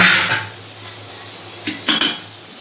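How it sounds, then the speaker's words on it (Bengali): A lid lifted off a kadai of paneer curry with spiced oil gives a few short metallic clanks and clatters, one early and a pair near the end, over a quiet room with no talking. "রেখে দেওয়ার পর ঢাকনাটা খুলে নিলাম"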